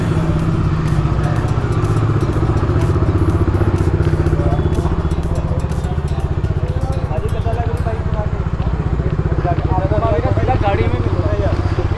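A Bajaj Dominar 250 motorcycle idles and rumbles loudly and steadily at close range, with a busy outdoor delivery crowd chattering over it throughout.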